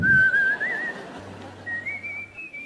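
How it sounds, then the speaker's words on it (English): Someone whistles a simple, slowly rising melody, a few sustained notes, close and clear, with a low hum starting partway through. "But then I started to whistle a bit of a tune."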